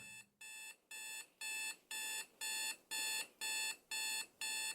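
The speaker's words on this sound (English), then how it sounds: "The alarm went off at 4 a.m. on a Tuesday." An alarm clock rings in a steady series of about ten electronic beeping bursts, evenly spaced and growing slightly louder, alone and fairly close.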